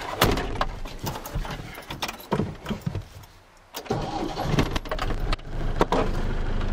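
An Iveco van engine is cranked and restarted just after an oil change with 10W50 oil, loud and close, with several bursts of starter and engine roar broken by a brief lull, and jangling keys mixed in.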